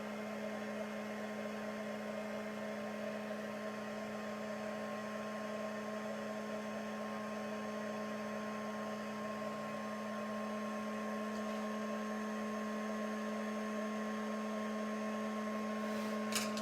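Heat gun warming up gives a steady, even electric hum and whir with a constant tone, unchanging throughout and without any voices.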